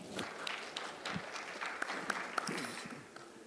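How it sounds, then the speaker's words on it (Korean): A lecture audience at a pediatric emergency medicine conference claps in brief, faint, scattered applause lasting a few seconds. "박수로 환영하겠습니다."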